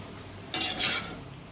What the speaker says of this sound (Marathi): थोडंसं मीठ, चपातीला मीठ असते, अगदी थोडंसं टाकायचं भाज्यांपुरतं आणि मिक्स करून घेऊया आपण.